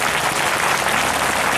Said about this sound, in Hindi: अपने हाथों को उठाकर ताली बजाकर उसकी महिमा करें